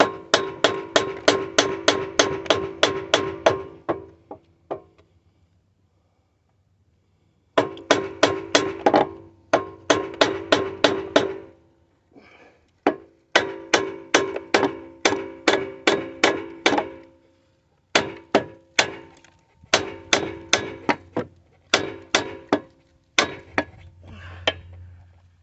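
A hammer beats on a part of a Briggs & Stratton lawn mower engine in rapid bursts of sharp metallic blows, each run of strikes separated by short pauses.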